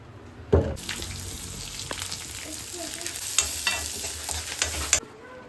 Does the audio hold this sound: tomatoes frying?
yes